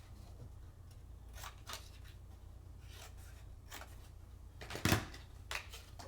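Scissors cutting paper for a 3D peacock craft, a few soft snips spread out and one sharper close cut, over low background hum.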